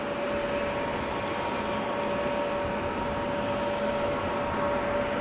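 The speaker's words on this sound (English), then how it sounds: "Vueling flight 1380 going to Alicante, A320Neo" A Vueling Airbus A320neo bound for Alicante at Amsterdam Schiphol Airport, with a steady, far-off jet engine drone and a constant whine holding level for several seconds and no voices.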